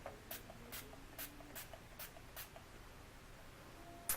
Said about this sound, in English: I'm going to be using my Urban Decay Chill Makeup Setting Spray, and I'm just going to spray that over my foundation